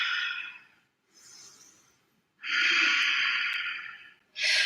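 Heavy, audible breaths during a power yoga session: a long exhale, a softer inhale, then a loud drawn-out exhale and another beginning, all close and with no talking.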